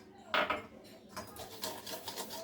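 A whisk or spoon scrapes and clinks in a bowl as cake batter of eggs, sugar and oil is mixed by hand, with a sharp knock at the start and then steady rhythmic rubbing strokes, close and moderately quiet.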